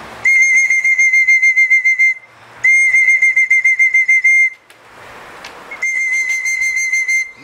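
Loud, piercing whistle blasts from a person in three long bursts at a pigeon loft as racing pigeons return, each a sustained shrill tone with rapid trilling pulses and short gaps between them.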